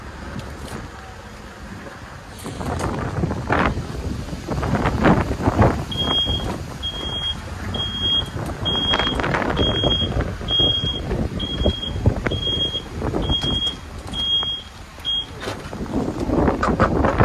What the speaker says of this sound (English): I'm going to pull the truck up here just a little bit further